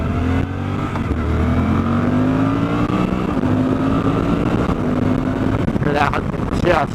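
A 2024 Suzuki DL-800 V-Strom motorcycle engine pulls hard and short-shifts through its gears while riding, a loud, steady drone whose pitch climbs and drops between shifts, with wind rush and a brief clatter near the end.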